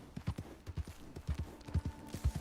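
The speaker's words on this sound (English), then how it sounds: "just like the sound of the horse galloping" A horse gallops in Red Dead Online, a quick run of soft hoofbeats landing in a steady rolling rhythm, close and moderately loud, with no talking.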